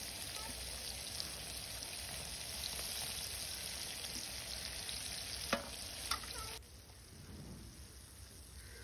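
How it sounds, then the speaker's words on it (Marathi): Black fish frying on a flat iron tawa over low heat, a steady hissing sizzle with a couple of light clicks, the sizzle dropping quieter for the last couple of seconds. "मी त्याच तव्यामध्ये हे काळे मासे तळून घेत आहे."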